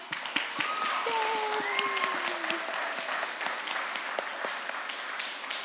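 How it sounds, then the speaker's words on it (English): A room of children at a World Book Day session gives the author and illustrator a round of applause, with moderate scattered clapping and a few whistling or squealing tones mixed in, holding steady throughout. "Will we give them a huge round of applause?"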